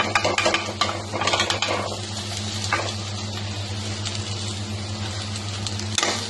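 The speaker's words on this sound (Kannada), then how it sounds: "ಬೆಂಡೆಕಾಯಿ ಇದೆಯಲ್ಲ ಅದನ್ನು ಹಾಕೋಣ ಫ್ರೆಂಡ್ಸ್" Okra tumbles into a hot pan and is stirred, with a soft sizzle, scraping and clinking of a utensil against the pan, all over a steady low kitchen hum.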